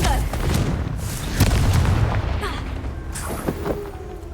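A Confringo fire spell explodes in Hogwarts Legacy, a deep booming blast with rumbling low-end impacts and crackling bursts layered over ongoing game combat noise.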